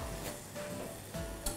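Sugar and agar powder stirred in a pot of water heating on the stove for fruit jelly, with a soft scraping swirl, quiet bubbling hiss and a light clink near the end, no talking.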